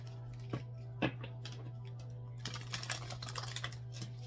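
Soft papery riffling and flicking of a deck of cards being shuffled, quiet and close, with a few crisp snaps over a steady low hum.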